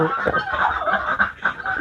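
Ducks, among them crested ducks, on a Thai integrated farm give a short burst of nasal honking quacks, several overlapping calls at close range with no talk.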